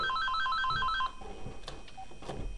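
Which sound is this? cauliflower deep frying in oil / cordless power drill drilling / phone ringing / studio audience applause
phone ringing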